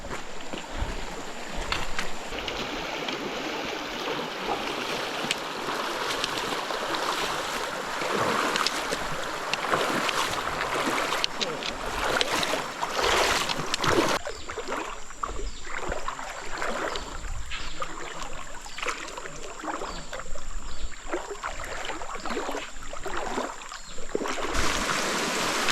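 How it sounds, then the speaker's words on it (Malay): Trail runners wading for kilometres along a river during a 100 km rainforest trail race in Merapoh, with steady rushing water and sloshing close by and wind buffeting the microphone throughout. "Kita ni bukan seberang sungai, ni meranduk sungai 3 km."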